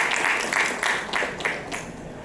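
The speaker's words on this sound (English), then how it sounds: "A round of applause for the technology that sir is bringing here in India." Audience applause at an AI-based personalized medicine panel in India, a short burst of fairly distant clapping with a few louder claps standing out, fading toward the end.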